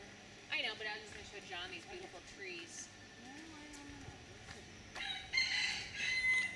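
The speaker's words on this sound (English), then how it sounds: "Oh, there's a chicken." A rooster in the Honolua Bay jungle on Maui crows and clucks several times at moderate distance, its calls rising and falling amid soft forest ambience, with quiet talking in between.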